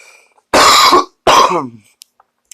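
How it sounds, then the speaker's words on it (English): A smoker gives two harsh coughs, close and loud, the first short and the second trailing off, followed by quiet. "Still got a slight cough"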